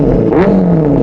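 A Benelli 600i motorcycle with a free-flow exhaust gives a short, loud, close engine rev whose pitch climbs and then settles.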